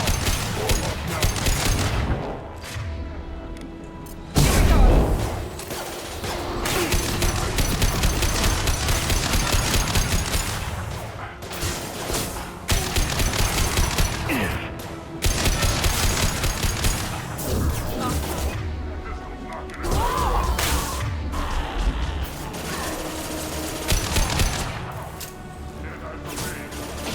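Gunfire in the video game Mass Effect 2, with bursts of shooting and crashing impacts recurring in waves under game music and voices, loud and busy with short gaps.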